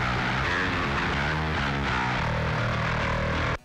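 A clean, direct bass guitar tone taken from an amp's direct output plays a dense, continuous low line, loud and unaccompanied, cutting off abruptly at the end.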